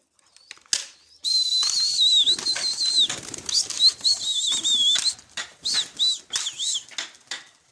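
Pigeons are released to fly, their wings clapping and flapping in quick bursts, joined by a thin whistling tone and ending in a string of separate close wingbeats.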